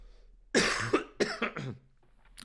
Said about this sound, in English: Sorry, I've been nursing a cough.